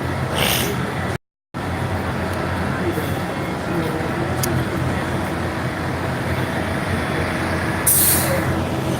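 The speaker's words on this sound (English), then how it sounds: "seeing the bus that approaches" Out on a downtown street mall at 5pm, a bus approaches with traffic rumble throughout, and a short sharp hiss of air brakes comes near the end; a voice talks over it.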